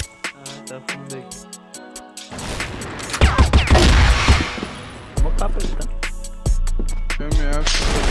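Gunfire in a tactical shooter video game, a burst of rapid shots followed by heavier explosive-like bursts and a few loud single blasts, with people talking.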